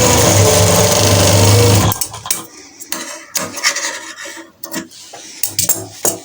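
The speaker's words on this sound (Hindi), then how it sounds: "उस तक लेके जाके इसकी हमने सिलाई लगा लेनी है अंदर की तरफ" A sewing machine stitching a uniform coat collar runs in a loud, dense burst for about two seconds, then stops, leaving scattered rustles and knocks of fabric being handled up close.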